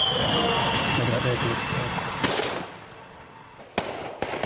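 Sharp gunshot cracks in a war zone, heavy fire ringing out, a loud roar fading into a few separate bangs, distant and echoing outdoors.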